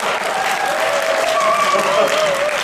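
Applause from an audience in a hotel grand ballroom at a Mannatech awards event, a dense, steady roar of clapping with voices and cheering mixed in, loud and continuous throughout.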